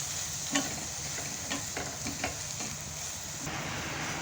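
Paneer bhurji is stirred in a frying pan over the heat, with a steady sizzle and several scraping stirs of a spatula against the pan, close and without talk.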